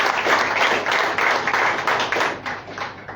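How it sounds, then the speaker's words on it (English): An audience at a Rotary Club scholarship distribution ceremony bursts into loud, close applause, a thick sustained patter of many hands that begins to thin and fade toward the end. "He deserves big round of applause"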